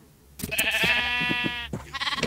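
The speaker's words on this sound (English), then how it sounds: "I put these sheep in a hole." Sheep in Minecraft give a few close bleats, one long wavering bleat in the middle framed by shorter calls, kept in a pen dug into the ground in the block-building game.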